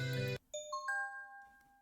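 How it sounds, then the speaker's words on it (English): A phone rings in the video game Sweet Country Life with a short rising chime of three clear bell-like tones that linger and fade, following a brief burst of music that cuts off. "When suddenly, his phone rings"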